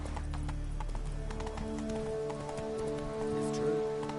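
Horse galloping in the video game Witcher 3, with a steady rapid clip-clop of hooves running throughout over a low rumbling game background with tonal music.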